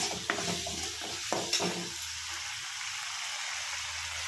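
Masala paste frying over a low flame gives soft sizzling, with a few scraping stir strokes in the first two seconds before settling into a quiet, steady fry.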